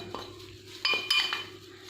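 A utensil clinks and scrapes against a bowl while eggplant chip ingredients are mixed, a few sharp metallic taps close up with no talk.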